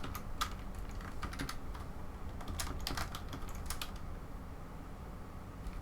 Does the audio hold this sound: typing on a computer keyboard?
yes